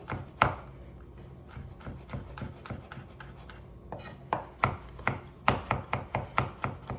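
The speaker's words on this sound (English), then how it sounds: "and chop it up" A knife chopping on a cutting board, scattered soft taps at first, then a quicker run of sharp, evenly spaced chops near the end, close and clear with no talking.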